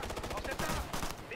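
Rapid automatic gunfire in the tactical shooter Ghost Recon Future Soldier: a quick run of sharp, closely spaced shots, fairly faint and distant, with a voice talking over part of it.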